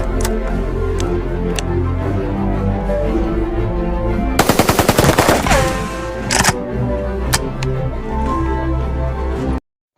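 An AK-46 rifle empties a full magazine in one rapid burst of loud, close gunfire lasting over a second, followed by a couple of single sharp cracks amid steady mechanical background noise.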